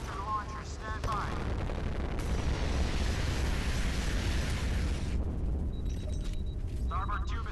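A missile strikes in the naval combat game Modern Warships, setting off a loud, sustained roaring blast of several seconds, with brief game voice callouts before and after it.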